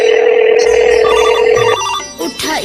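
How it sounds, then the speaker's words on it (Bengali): A phone rings on an outgoing call in a rural Bangladeshi comedy skit. A steady electronic ring tone sits over faint background noise and cuts off near the end, leaving a few brief scattered sounds. "ফোন দি ওর কাছে একটা।"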